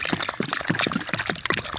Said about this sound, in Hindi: अब पानी भरा जा रहा है इसके अंदर